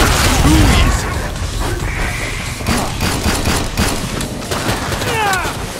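Rapid gunfire in Killing Floor 2 co-op, a steady dense fusillade of shots mixed with creature screeches and game noise, with voices speaking.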